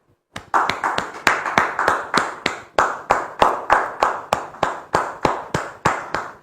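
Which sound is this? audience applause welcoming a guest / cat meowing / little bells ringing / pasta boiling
audience applause welcoming a guest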